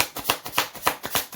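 Message cards shuffled by hand in a quick steady rhythm, about five crisp riffling bursts, close and moderately loud, with no voices.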